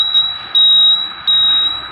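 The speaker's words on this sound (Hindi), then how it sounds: "हमारा ये बज़र बज रहा है।" A shrill electronic indicator buzzer on a TVS Sport BS6 motorcycle beeps loudly and close, with two long tones after a short one, sounding on and off.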